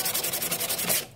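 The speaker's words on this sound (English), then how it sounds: "just a little bit of sanding goes a long, long way in making it look much nicer" Sanding dirt and grime off an old piano: brisk rhythmic rasping strokes, about a dozen quick back-and-forth scrubs, close and loud before stopping abruptly.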